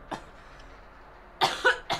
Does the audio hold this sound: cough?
yes